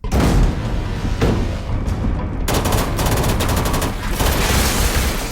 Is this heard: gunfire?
yes